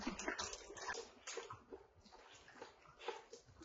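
Two dogs eating kibble from slow feeders, giving close, busy crunching, licking and clattering bursts that repeat steadily without a pause, with no voices over them.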